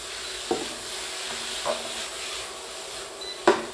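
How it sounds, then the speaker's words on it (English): Pad thai vegetables with fish sauce and chili flakes sizzle in a pan while being stirred, a steady close frying hiss with three brief scraping clicks of the utensil. "Let's get our stirring done."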